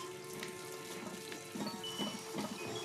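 Water runs steadily from a toilet's built-in water feature in the Hitman III VR game set in Dubai, a continuous close trickling wash with faint tonal hums and a few soft splashy pulses, no talking.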